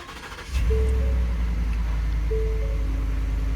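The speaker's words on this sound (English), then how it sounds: "Go ahead and start the engine." A Ford F-150 pickup's 5.0L V8 cranks briefly and catches, then settles into a loud, close, steady rumble with a faint high whine after startup; no talking.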